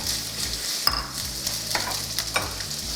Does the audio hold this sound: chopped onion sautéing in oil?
yes